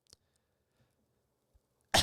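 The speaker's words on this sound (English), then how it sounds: "Excuse me, clear my throat real quick." A man clears his throat close to the microphone in a quiet room. A faint brief rasp comes first, then a short, loud, harsh burst at the very end, with no talk.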